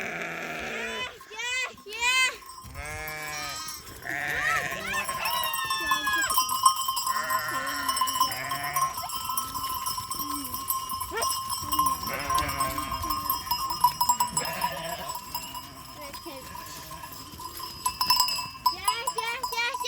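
Many clanking livestock bells and bleating sheep as a flock moves past, with voices talking over the steady jangle.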